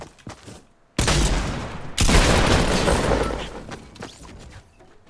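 In the Fortnite Battle Royale video game, the player is struck by loud, close gunfire that arrives as two sudden dense volleys one second apart and then fades into quieter rattling.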